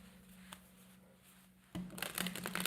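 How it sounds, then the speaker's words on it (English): Tarot cards shuffled in a quiet room, a faint hum at first, then a sudden burst of quick riffling and flicking cards near the microphone for the final second. "One more shuffle."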